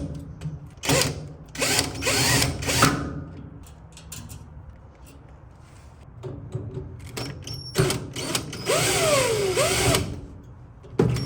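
Power drill backing out screws on a dryer's gas valve, several short bursts of whirring at close range, each lasting a second or two, separated by pauses with small clinks and handling noise.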